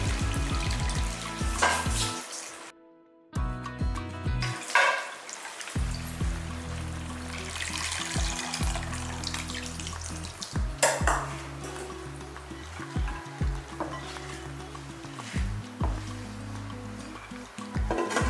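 Tamarind water hits hot oil and frying onions with a sizzle, followed by continuous frying and clinks of a metal utensil against a pan.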